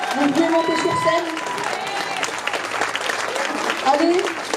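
An audience applauds hosts called up onto a stage at a local talent show, the clapping steady and dense across the clip while voices talk and call out over it.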